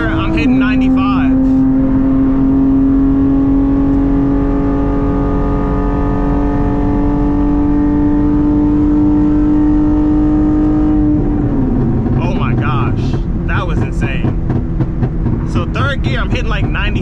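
A drag race car accelerates hard in third gear, its loud engine note climbing steadily in pitch before a shift, then revving roughly and loudly close to the microphone.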